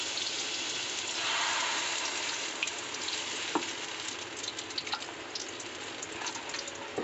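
Wheat halwa batter sizzles steadily in a hot pan on the stove as it is stirred continuously, with a soft even frying hiss and occasional light scraping clicks, close and alone without voices.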